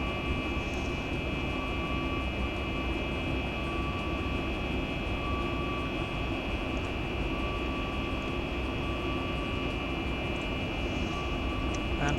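Boeing 737 MAX 8 engines in a flight simulator give a steady, loud, unbroken roar with a constant whine, holding level throughout with no talk over it.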